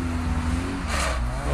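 Fast cars on Michelin tyres roar past at a rally-style driving event, with a loud steady engine drone and a brief rushing whoosh in the middle as one goes by.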